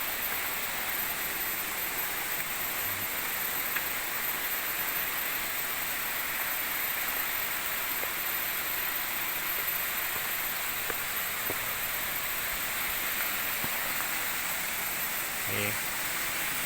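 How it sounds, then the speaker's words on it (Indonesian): Water from a waterfall near Kampung Kunci rushes in a steady, broad hiss that runs through the whole stretch. It sounds moderately distant, and a few faint knocks and clicks are heard over it. "Ini di bawahnya air terjun itu."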